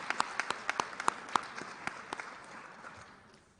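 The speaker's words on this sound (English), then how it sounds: "a round of applause for our graduating seniors." Small audience at a school scholarship and awards night clapping for graduating seniors, a sparse scattering of individual claps that thins out and fades within a few seconds.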